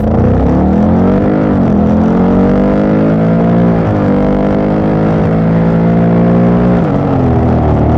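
A Honda Africa Twin motorcycle with an automatic gearbox revs up hard and holds a high, steady roar, pitch climbing in stages with brief dips between gear pulls, loud and close throughout.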